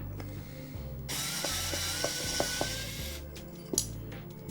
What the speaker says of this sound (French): Tournevis électrique à main.